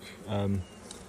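Honeybees around an opened hive frame give a short, close buzzing swell lasting about a third of a second over a faint background hum.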